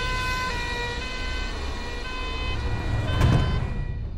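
A wailing ambulance siren with steady rising and falling tones over road and engine noise, moderately loud and close, building briefly near the end with no talk.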